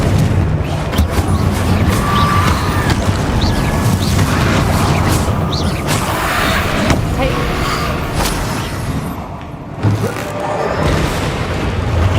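Confringo explosion spell cast in Hogwarts Legacy, a dense loud stretch of booming blasts and crashing impacts with a brief lull near the end, voices shouting over the din.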